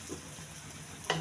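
Coriander powder frying and being stirred in a pan, a steady low sizzle throughout with a brief louder scrape or hiss near the end.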